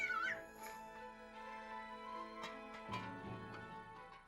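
Several cats meow in short, plaintive cries, faint and spaced out over a soft background.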